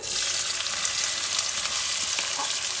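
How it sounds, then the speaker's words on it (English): Finely chopped red onion hisses in a hot pan with oil and mustard seeds, giving a loud, dense, continuous sizzle close up, with no voices. "To this I'm going to add now finely chopped red onion."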